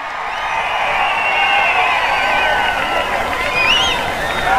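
A large crowd at a political rally in Telugu country claps and cheers continuously with a dense roar of applause, loud and sustained, with scattered whoops on top.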